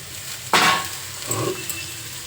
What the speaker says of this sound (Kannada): ಈಗ ಒಗ್ಗರಣೆಗೆ ಹಾಕ್ತೀನಿ